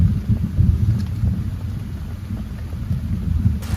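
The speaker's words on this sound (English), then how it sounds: "this time it's raining, okay?" Rain pours steadily with low thunder rumbling throughout, heard from inside a bike camper by a riverside, a continuous dense wash of sound with no voices.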